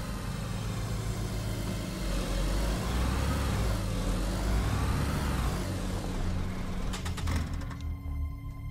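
A car engine runs in the DayZ video game as a steady, loud, low rumble that rises and falls slightly. Near the end there are a few clunks, like a door or a gear change. Nobody speaks during it.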